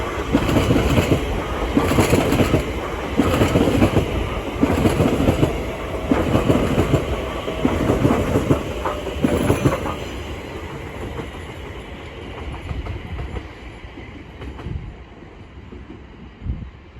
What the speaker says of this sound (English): Here's a TfL Rail Class 345 from Shenfield to London Liverpool Street